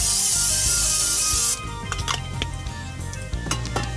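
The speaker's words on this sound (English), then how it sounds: "So I'm going to spray some more spray on here, olive oil spray." Olive oil cooking spray hisses steadily for about a second and a half over Brussels sprouts in a Ninja Foodi air fryer, followed by light metallic clinks and rubbing of pan and utensils.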